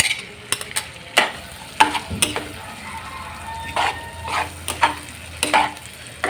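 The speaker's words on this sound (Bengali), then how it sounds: "100 গ্রামের মতো পেঁয়াজ কুচি দিয়ে খুবই সুন্দর করে বাদামি কালার করে একসাথে ভেজে নেব" Chopped onions fry in oil in a pan under a soft continuous sizzle, while a spoon clanks and scrapes against the pan in irregular sharp knocks, close by, with no talk.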